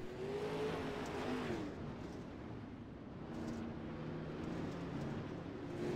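Pro Late Model race cars at Kokomo Speedway, a steady distant roar of engines with rising and falling revs as the pack runs on the oval.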